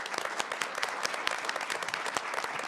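Steady round of applause from the audience at a school district board meeting, dense clapping from many hands at moderate distance, with no talking.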